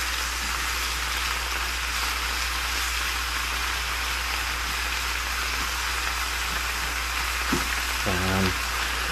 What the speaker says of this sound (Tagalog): Halo-haloin mo lang para hindi ma-overcook.